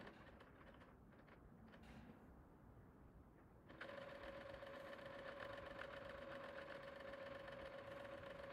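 A home sewing machine runs a buttonhole stitch along the hem edge of a cotton dish towel, first as a faint whirr, then a louder, steady hum of continuous stitching from nearly four seconds onward, close and alone.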